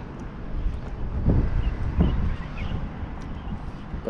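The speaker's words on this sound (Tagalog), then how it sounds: "Malakas na yung hangin." Strong wind gusting outdoors, a steady broadband rush with two heavier buffets hitting the microphone close and loud, no voices.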